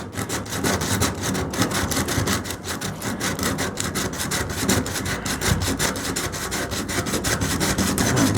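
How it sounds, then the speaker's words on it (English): Hand sandpaper scrubbing the metal hood of a 1929 Chrysler, a rapid rhythmic back-and-forth rasping of even strokes, close and fairly loud, with no voices. "And then I'll use my hand sandpaper."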